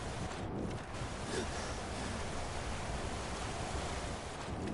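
Steady broadband rushing roar of a waterfall in the video game Skyrim, heard from its base as continuous, even white-noise wash with no pauses or voices.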